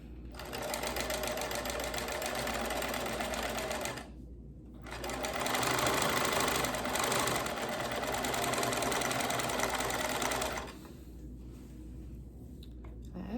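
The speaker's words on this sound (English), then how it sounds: "this machine sews zigzags" Home sewing machine stitching a straight seam with stitch width at zero on ruffle pillowcase fabric for an IKEA body pillow: a steady, close whirring hum that runs, pauses briefly, resumes, then drops to a quieter motor hum near the end.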